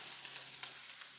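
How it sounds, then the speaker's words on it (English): Chopped garlic sautéing in a pan, a steady close sizzle and hiss of frying with no voices, lasting about a second. "saute garlic,"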